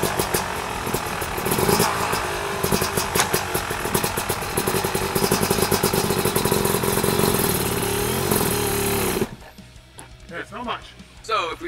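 An off-road enduro motorcycle runs along a trail, its engine buzzing steadily and loudly with rhythmic revving for about nine seconds before cutting away to a quieter scene with a voice speaking.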